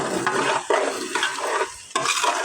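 Khichuri stir-fried in hot oil, a spatula scraping the pan in repeated close strokes over a steady sizzle, with no voices.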